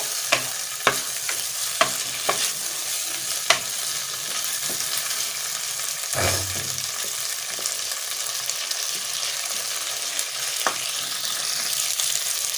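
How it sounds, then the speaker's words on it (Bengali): Cauliflower and potatoes sizzle steadily in a pan while a utensil scrapes and stirs through them, with sharp clicks in the first seconds and a brief thud midway, all close and without speech. "ফুলকপিগুলো দিয়ে দিলাম এগুলো ভালোভাবে মিক্স করে নেবো আলুটার সাথে"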